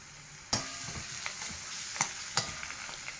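Crushed garlic, onion and curry leaves hit hot oil for a raw jackfruit and plantain upperi, setting off a sudden loud sizzle that holds steady, with a few sharp stirring clicks and scrapes scattered through it.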